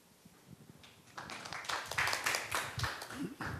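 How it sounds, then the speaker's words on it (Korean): Applause from a seated audience at a real estate market outlook seminar, a moderate wash of clapping that builds after a second and holds steady, with a little murmur mixed in. "또 박수를 받으셨네요"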